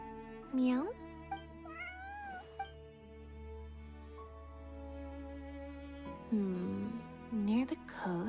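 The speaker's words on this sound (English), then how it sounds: "Meow meow." Cat meows in Genshin Impact, a few short rising and falling mews near the start and a cluster of louder ones near the end, over a steady musical background.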